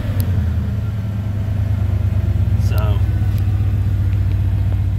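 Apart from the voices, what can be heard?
old farm truck engine running, muffler has a hole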